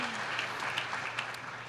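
Audience applause at a Facebook town hall, a brief patter of clapping from the crowd, moderately loud and continuous for under two seconds.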